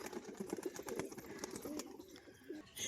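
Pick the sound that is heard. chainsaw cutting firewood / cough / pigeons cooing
pigeons cooing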